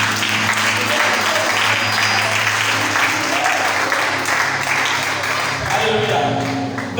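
A crowd at a French-speaking gathering applauds and cheers, a dense, steady wash of clapping and voices that holds loud for several seconds before easing slightly near the end.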